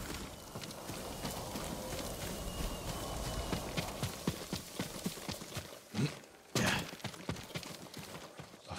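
Horse hooves clip-clop at a steady walking pace over a constant rustling ambience, with a couple of brief louder thumps near the end, from the video game Ghost of Tsushima.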